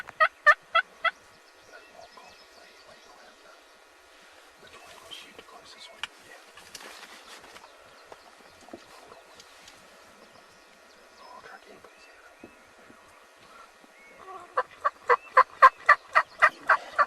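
Two wild turkey toms trailing a hen across a spring field gobble in rapid rattling bursts, one loud series at the start and a longer one near the end, with faint birdsong and quiet stretches between.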